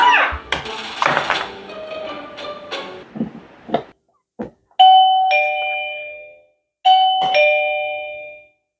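A Daytech wireless door chime rings twice with a clear, loud electronic ding-dong, each chime fading out slowly, after a stretch of close handling taps and clicks as the unit is set up.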